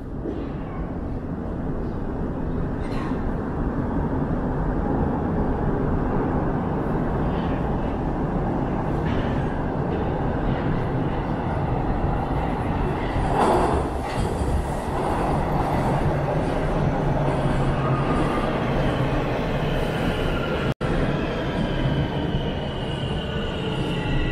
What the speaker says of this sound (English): And I think I hear a train coming.